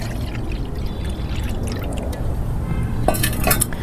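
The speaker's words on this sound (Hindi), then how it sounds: "इसके बाद 1 लीटर पानी मैं इसमें मिलाऊंगी" About a litre of water is poured into a mixture for a plant leaf-curl remedy, a continuous close gurgling pour with splashes that brighten toward the end, and no talking.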